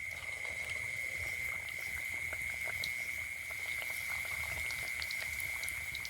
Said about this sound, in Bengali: এবারে এগুলো ছেড়ে দেব তেলের মধ্যে